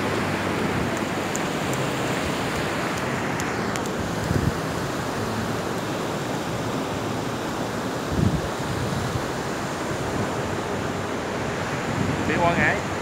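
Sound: sea waves at Quang Ngai beach

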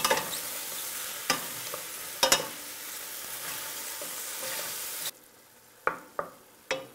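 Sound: mushrooms frying in a pan

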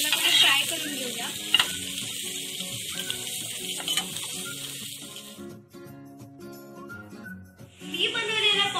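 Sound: pomfret fish frying in oil in a pan

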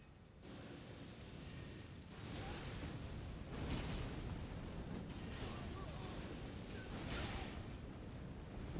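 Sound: explosions in the video game Elden Ring

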